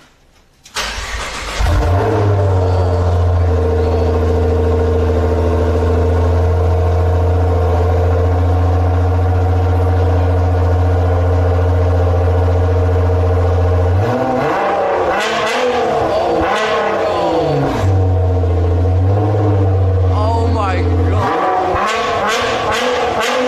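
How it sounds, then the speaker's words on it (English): Nissan GT-R with a freshly fitted aftermarket exhaust starts up and settles into a loud, steady, deep idle, with a couple of short throttle blips partway through. "just got the exhaust done"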